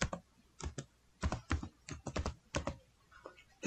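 Typing a command on a computer keyboard on a Windows PC, roughly a dozen close, crisp key clicks in uneven bursts with short pauses, alone with no talk.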